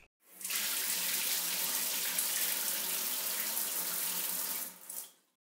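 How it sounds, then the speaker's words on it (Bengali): A tap runs in a strong steady stream as a spice-stained bowl is rinsed, the rushing water starting abruptly, holding constant for several seconds, then cutting off with a brief final splash. "বাটির গায়ে একটু মশলা লেগেছিল, বাটিটা ধুয়ে দিয়ে দিলাম।"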